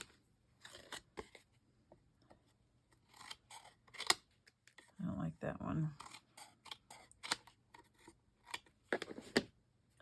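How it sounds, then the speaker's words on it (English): Scissors cutting paper at a slight angle while crafting a retro summer mini album, with a series of short crisp snips and rustles, close and fairly quiet, and a person speaking briefly between cuts. "So I'm going to rest my scissors up against the paper and cut at an angle."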